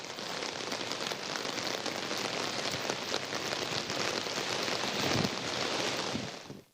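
Steady heavy rain falls in a flooded suburban area, a dense continuous hiss of drops on surfaces, loud and unbroken, with no voices.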